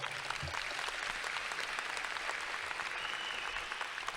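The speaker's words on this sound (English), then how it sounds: "Can we give her another round of applause?" An audience at a commencement ceremony claps steadily in a dense, sustained round of applause, fairly loud and even throughout with no voices standing out.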